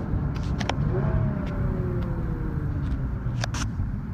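A Nissan 370Z sports car engine rumbles low and steady with a slight rising whine, heard from inside or nearby amid background noise and faint clicks.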